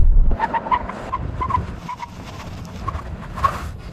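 A Bentley Speed brakes hard from speed on a test track, giving a brief faint tyre squeal and chirping over low road rumble and wind, with no one speaking.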